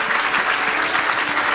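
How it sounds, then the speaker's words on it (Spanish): Church congregation applauding during a Spanish-language service, a dense, even wash of many hands clapping together at close range with no talk over it. "Denle un aplauso a Él."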